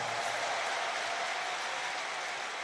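An audience breaks into applause at a political meeting, a dense, continuous wash of clapping that stays loud and even throughout the short stretch, with no voices over it.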